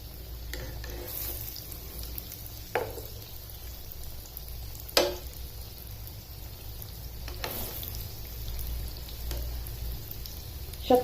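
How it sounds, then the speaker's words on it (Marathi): Spoon-dropped sweet potato cutlets for a fasting recipe fry in a pan of oil, giving a steady bubbling sizzle throughout with a few sharper crackles and pops. "यात आपण हे तयार केलेले कटलेट आता टाकायचे।"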